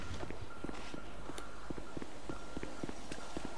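A GTA Online character runs in heels, a quick, steady patter of light clicking footsteps heard faintly under a low background hum, with no talking.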